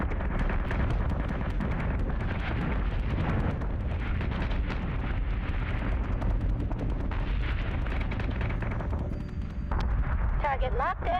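Flak guns keep up steady fire in the Battlestar Galactica: Deadlock video game. The dense, rumbling barrage of overlapping booms runs unbroken throughout, with game voices talking over it.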